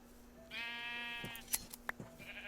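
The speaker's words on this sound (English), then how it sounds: "Oh, there's some more sheep." A sheep in Minecraft lets out one drawn-out, wavering bleat, clear and close, followed by a few short clicks and thumps.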